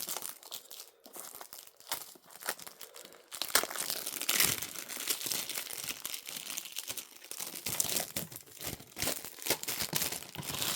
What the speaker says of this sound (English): Just take the cellophane off.